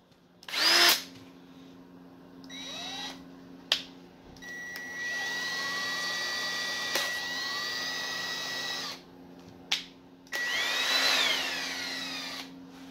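A cordless drill with drill, drive and hammer settings and two speed settings whirs in several bursts, a short blip, then two long steady high-pitched runs that wind up and down, close and loud with no talking.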